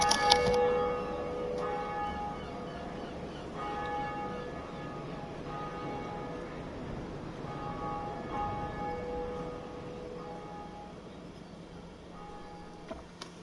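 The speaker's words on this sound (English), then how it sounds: "Ring the bell." A bell rings in Dark Souls Remastered, steady sustained tones layered over a dense wash of game ambience, moderately faint, with a few brief clanks near the start and end and no talk.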